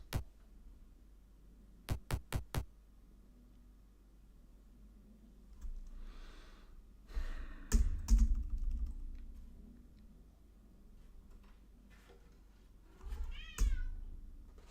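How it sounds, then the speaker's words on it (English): A house cat meows a few times, soft and then louder, amid quiet room noise, sharp clicks and keyboard tapping. "my cat wants to join in."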